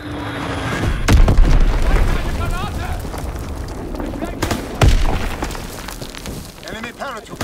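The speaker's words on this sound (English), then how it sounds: "Enemy bomb incoming." Bomb explosions in the World War II shooter Call of Duty: WWII, heavy booming blasts with crackling debris and rumble, sharp impacts about a second in and again near five seconds, with a radio-style voice announcement layered in.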